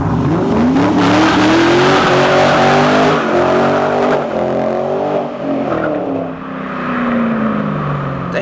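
A black 2006 Ford Mustang GT with a Pypes mid-muffler exhaust revs loudly nearby, its engine tone rising and falling in a raw, rumbling roar as the car passes, with no one speaking.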